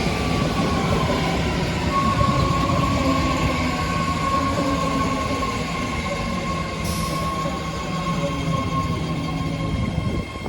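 A new 8-car, 3-door BART train on the future Orange Line to Berryessa approaches the platform with a loud, continuous rail rumble and a thin wheel squeal throughout.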